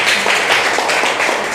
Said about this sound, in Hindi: आप लोग तालियां बजा दीजिए